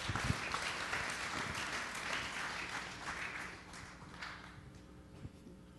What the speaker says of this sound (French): On l'applaudit ensemble.